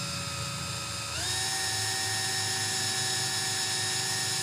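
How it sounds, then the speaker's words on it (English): Small drill boring a little hole into a sublimation blank, a steady high-pitched whine that rises in pitch about a second in and then holds loud and constant without speech. "you're just gonna wanna drill just a little hole"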